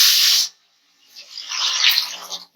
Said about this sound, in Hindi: तो उसमें पानी ऐड कर देंगे।